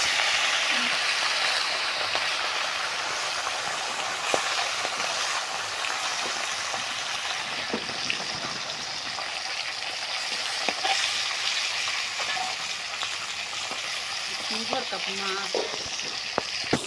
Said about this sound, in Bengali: মাছগুলা ভাজা আমাদের হয়ে গেছে